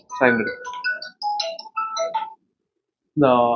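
A phone ringtone plays a bright, chirpy electronic melody of short tonal notes, with a voice just before it and another after a short pause.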